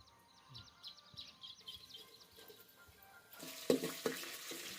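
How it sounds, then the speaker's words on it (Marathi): Garlic and coconut roasting in hot oil in a home kitchen pan, a soft steady sizzle with occasional stirring scrapes that grows louder and busier toward the end, with faint birdsong in the background. "चांगलं लसूण खोबरं भाजून घेतलं"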